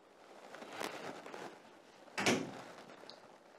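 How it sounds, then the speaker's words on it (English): Indoor door being shut in a wealthy house: a soft sliding sweep followed by a sharper closing thud, close and fairly quiet, with no talk over it. "Please shut the door."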